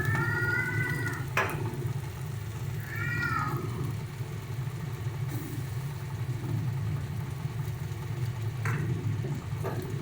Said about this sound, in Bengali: সমস্ত কিছু দিয়ে ভালো করে মশলাটা কষিয়ে নেব।